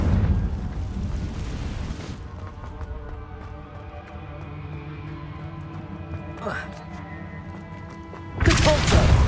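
A blast from the Confringo fire spell in Hogwarts Legacy, with a loud rumbling burst at the start, a lower sustained rumble, then another sharp loud burst near the end, and speech mixed in.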